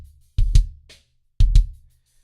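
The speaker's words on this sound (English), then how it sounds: "Just my kick." Two isolated kick drum hits from a producer's drum kit, each a deep punchy thump with a short bright attack and quick decay, about a second apart, close and dry with nothing else playing.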